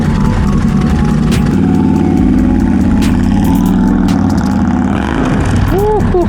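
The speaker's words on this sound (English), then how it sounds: "I never realized how loud that bike was till I am not on it." A Harley-Davidson motorcycle on a test ride roars loudly, its engine rumbling and revving steadily at close range, with a voice faintly underneath the constant engine noise.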